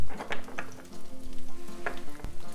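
Kangaroo burgers and onion sizzle in an oiled frying pan, a steady close frying hiss with occasional scrapes and stirs.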